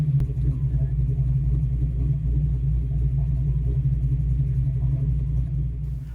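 A Fox Body Mustang with FlowMaster Super 40 series exhaust idles steadily close by, giving a deep, loud, even low rumble that holds level throughout with no revving.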